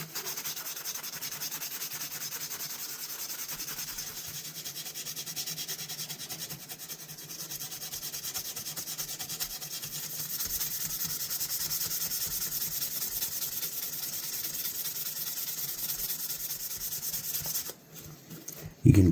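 Sandpaper steadily rubs and scrapes along a Colonial Forrest Master Scout pocket knife during restoration, a continuous close, even abrasive hiss that swells slightly midway and ends with a few sharper scrapes.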